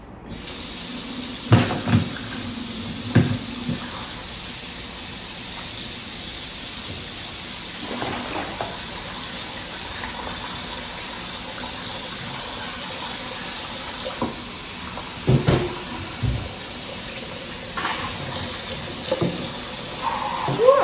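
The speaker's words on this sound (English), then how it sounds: "So we're gonna do these dishes real quick." Tap water runs steadily into a kitchen sink while dishes are washed by gloved hands, with occasional clinks and knocks of dishware breaking through the constant close splashing.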